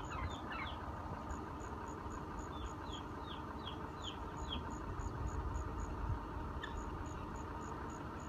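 A chicken beside a young Devon bull gives a series of short, descending chirping calls at a steady rhythm, fairly faint over a continuous low outdoor hum.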